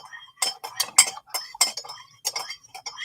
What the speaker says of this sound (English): I need to stir my matcha.